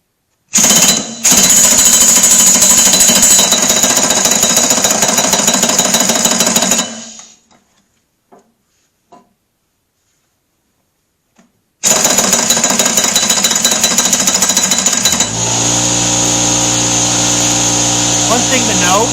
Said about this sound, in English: you're going to hear me over the air compressor